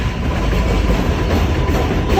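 An elevated train passes directly overhead on Jerome Avenue in the Bronx, a loud, continuous low rumble and rattle of rail cars filling the street below with no voices.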